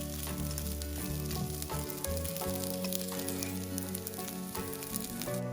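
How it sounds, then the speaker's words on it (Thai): Steady loud sizzling of fried rice with egg and seasonings being stir-fried in a hot pan, with continuous frying crackle and occasional scraping strokes. "เมื่อปรุงรสข้าวผัดเสร็จแล้วเราก็ผัดส่วนผสมต่างๆ จนเข้ากันดีค่ะ"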